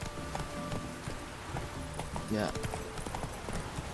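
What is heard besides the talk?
horse Roach galloping in video game The Witcher 3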